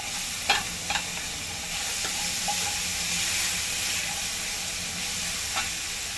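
Onions fry in a pan for baingan bharta, a roasted eggplant dish, with a steady, close sizzle and a few light clinks of stirring near the start, and no talking.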